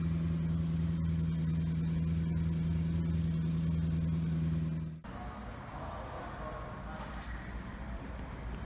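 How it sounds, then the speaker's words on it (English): Maserati engine running completely cold, a loud steady droning idle with strong low harmonics for about five seconds before cutting abruptly to quieter, rougher background noise. "here's how the vehicle sounds when it's completely cold"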